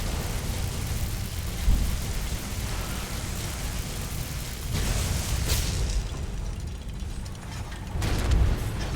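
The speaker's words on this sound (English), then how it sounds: "where's my lightning storm?" Lightning storm spell cast in Skyrim, a roaring crackle of storm noise with thunder-like booms swelling around 5 and 8 seconds, loud and continuous with no talking.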